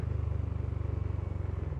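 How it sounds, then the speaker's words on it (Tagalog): A scooter exhaust rumbling close by during engine braking with the clutch engaged, a low, pulsing burble, steady and throaty with no acceleration. "Maririnig nyo rin yung tunog ng tambucho natin."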